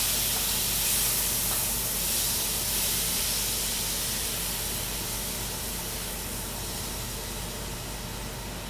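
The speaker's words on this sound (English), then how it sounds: "So the artichoke hearts are in. You're gonna let them sear for about a minute." Artichoke hearts sear in a hot pan with a steady, loud hiss and sizzle that slowly eases over several seconds, with no talking.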